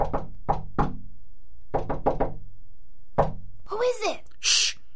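Knocking on a door in a radio drama: several loud, close raps come in quick groups of two and three with pauses between, followed by brief rustling and muffled movement.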